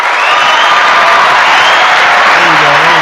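A canned applause sound effect played from a button on a live show, a loud, steady wash of clapping and cheering crowd with a whoop, continuous and dense throughout.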